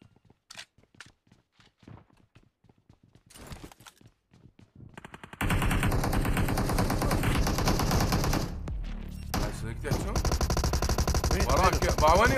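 Gunfire in the PUBG Mobile video game: sparse distant single shots and footsteps at first, then a loud sustained burst of rapid automatic fire with further volleys, while players talk over it.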